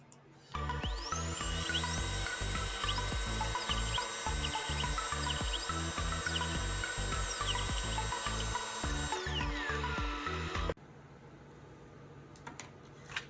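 Glowforge laser cutter cutting a board, a steady fan drone under rapid stepping motor chirps and rising, falling whines as the head moves, running for about ten seconds then cutting off to near silence.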